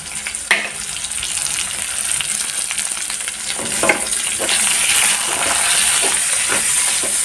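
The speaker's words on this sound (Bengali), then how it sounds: "পেঁয়াজটা একটু লাল করে ভেজে নেবো এখন মাংসর জন্য" Chopped onions fry loudly in hot oil for meat, a dense continuous close sizzle with a few sharp clinks of a spoon or spatula, and no one talking.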